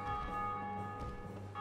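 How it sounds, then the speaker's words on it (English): A bell tolls in Dark Souls Remastered, heard during the Bell Gargoyles rooftop fight: a faint, sustained ringing tone that hangs under a low background drone and is heard alone without talk. "Yeah, rub it in, people ringing that bell."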